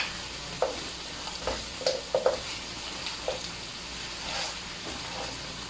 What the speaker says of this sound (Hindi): अभी इसको मैं तकरीबन 10 मिनट तक और फ्राई करूँगा